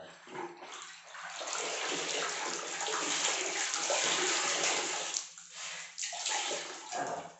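Water runs from a tap into a bucket in a steady, loud splashing gush, dipping briefly once or twice and then carrying on, with no voices.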